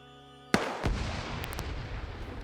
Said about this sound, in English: And gunshot.